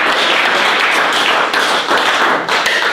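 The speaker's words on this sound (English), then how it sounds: "Let us give a mighty clap offering of thanksgiving." A church homegroup congregation claps hands together in a loud, dense, sustained round of applause that holds steady throughout.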